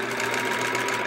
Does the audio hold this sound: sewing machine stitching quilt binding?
yes